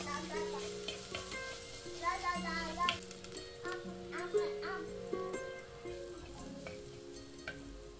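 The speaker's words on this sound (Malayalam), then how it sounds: "ആ ഒരു എണ്ണയിൽ കുറച്ച് നേരം ഒന്ന് ആ ഒരു ചമ്മന്തി കുക്കാവുന്ന വരെ ഒന്ന് നന്നായിട്ടൊന്ന് മിക്സ് ചെയ്യുക" Egg chutney stirred and fried in oil in a home kitchen gives a faint sizzle with occasional scraping and stirring knocks, under a person talking throughout.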